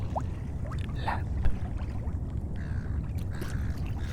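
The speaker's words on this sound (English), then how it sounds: "Listen to it lapping against the side of the boat." Calm water laps softly against the side of a boat, a steady low wash with faint, irregular little slaps and trickles close by.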